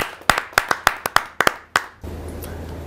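Applause for a poet at a Hindi kavi sammelan gathering, a handful of sharp, separate claps spaced irregularly over two seconds, then a low steady room hum.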